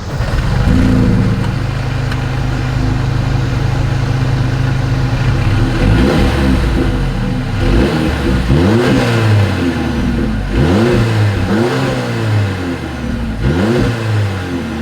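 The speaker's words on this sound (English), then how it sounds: "As always, here is that exhaust clip." A 2025 Mercedes-Benz CLA 250 exhaust rumbles loudly at idle, then revs up and down repeatedly in several sharp blips, close by.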